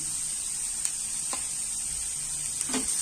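Egg filling for paratha being stirred and lightly fried in a pan: a steady soft sizzle with a few faint scraping strokes of the spatula, close and low in level.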